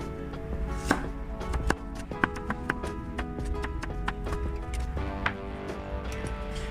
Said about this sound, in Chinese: 至于用来炒的呢，我们就把它切片